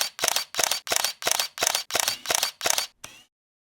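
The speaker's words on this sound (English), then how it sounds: "make sure that we in focus and shoot again" A camera shutter fires a rapid burst of nine evenly spaced clicks while shooting a bracketed HDR exposure sequence, each click sharp and close, with the last one slightly fainter before silence.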